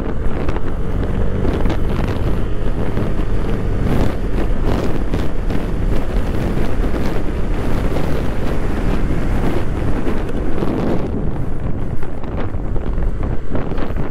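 A Honda Vario 160 scooter with its 160 cc engine accelerates while being ridden, its engine note buried under loud, continuous wind buffeting across the microphone with no pause for the whole stretch.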